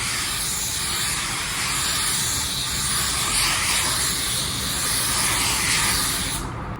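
Automotive paint spray gun spraying paint held close to the panel, a loud steady hissing blast of atomized paint that runs continuously and cuts off right at the end.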